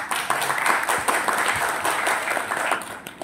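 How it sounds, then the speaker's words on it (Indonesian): Applause for Pak Gatot at a regional organisational meeting in East Java, a steady, dense clapping from a crowd lasting the whole few seconds. "Kita beri aplaus untuk Pak Gatot."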